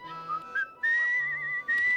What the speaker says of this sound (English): I still remember how to whistle though